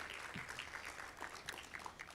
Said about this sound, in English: May we please give him another round of applause,